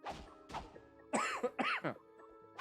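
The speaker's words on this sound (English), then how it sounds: "excuse me again, sorry about the coughing" A person coughs several times, with two short faint coughs followed by two louder, harsher throat-clearing coughs, close to the microphone with no talk over them.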